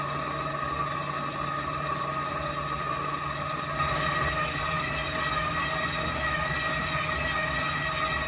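A stand mixer running on low while mixing sourdough bread dough gives a steady, loud motor whine with layered tonal hum, continuous and unchanging throughout, with no voices.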